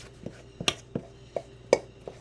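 Butter knife cutting butter into flour for apple pie pastry: a series of soft, close scraping taps against a bowl, about seven uneven strokes with pauses between them, fairly quiet and without talk.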